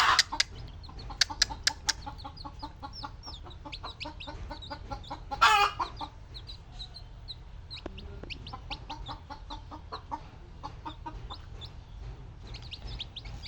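Newly hatched native chicken chicks from an incubator peep in a busy, continuous chorus of high chirps, close and fairly faint, with one brief louder burst of cheeping midway.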